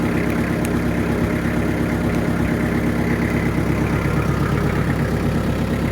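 A farm tractor engine idles steadily and close by, a continuous low mechanical rumble with a constant throb that holds unchanged throughout, with no voices.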